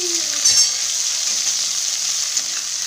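Four cloves of garlic with onions are stirred as they fry in a pan. A steady close sizzle carries a brief scraping burst near the start and a faint clink later, with no speech.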